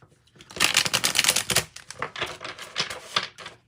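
A Rider-Waite tarot deck is shuffled by hand in quick, rapid clattering bursts of card riffles, close and crisp, with brief gaps between flurries.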